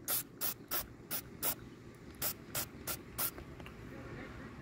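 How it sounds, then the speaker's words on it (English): A trigger spray bottle of Lime-A-Way cleaner is squirted into the inlet of a pressure washer, giving about ten short, sharp hissing spritzes in an uneven rhythm over a low background hum. "let's fill this little hole here with some Lime-A-Way"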